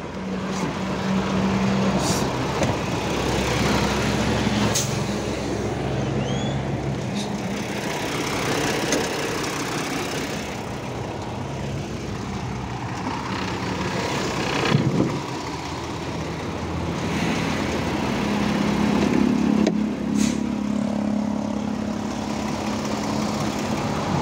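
Kenworth T880 truck engine idling steadily with its hood closed, a loud continuous low rumble with slight surges and a few brief clunks over about twenty seconds, no talking.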